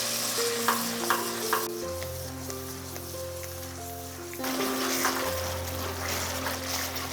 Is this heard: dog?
no